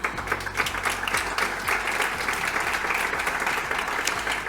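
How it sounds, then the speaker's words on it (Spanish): An audience at an education technology policy talk applauds a guest called to the stage, brisk close clapping from many hands, loud and continuous with a hum underneath. "Por favor, al escenario, un aplauso para él."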